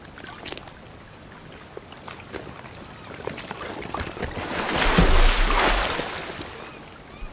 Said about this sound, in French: Le bruit que vous venez d'entendre, c'était tout simplement un requin